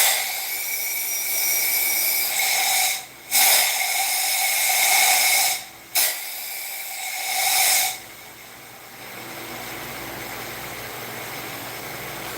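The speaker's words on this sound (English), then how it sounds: "That sounds like you got a leaky exhaust valve," A steady hiss of escaping air from a leaky engine valve on an idling carbureted engine, briefly interrupted twice, then continuing more quietly.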